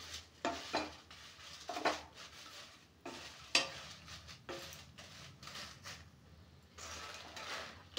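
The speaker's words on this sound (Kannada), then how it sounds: "ಇದು ಮೆಣಸಿನ್ಕಾಯಿ ಹುರಿದಾವು" Red chillies are dry-roasted in a pan over low flame for sambar powder, with repeated scraping and stirring strokes and light crackling, fairly quiet and close.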